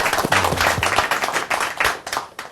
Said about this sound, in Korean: 어색하게 박수 한번 주세요